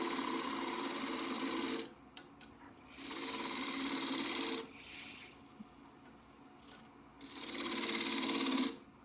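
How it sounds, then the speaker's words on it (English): A gouge roughs out a wooden bowl blank on a lathe, making loud sustained rasping cuts in three long bursts separated by short pauses as the tool pivots into the spinning wood. "Now removing a bulk of wood just by pivoting into the wood over and over and creating steps as I'm going down."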